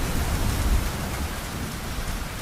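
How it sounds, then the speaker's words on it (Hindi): Heavy rain pours in a Hindi horror story scene, a loud dense steady hiss of falling water with a low rumbling undertone, heard alone without talk. "साहब लग रहा है बारिश थोड़ा सा कम हुआ है।"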